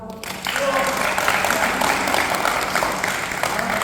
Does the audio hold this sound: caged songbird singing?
no